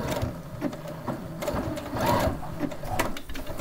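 A sewing machine running close up while finishing a chicken quilt block, a continuous rapid stitching whir with a steady mechanical pulse throughout.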